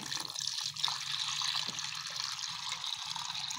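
A steady stream of pump well water trickles and splashes into a pigeon's drinking container, continuous and fairly close, with no voices.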